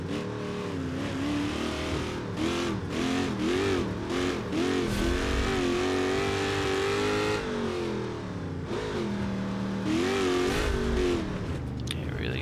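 A mud truck's engine in the BeamNG driving game revs hard and steadily in first gear, its pitch rising and falling with each push of the throttle, loud and close throughout with no voices.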